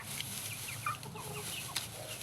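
Oriental-breed roosters cluck in a short burst of several soft calls over a steady, noisy backyard farm background.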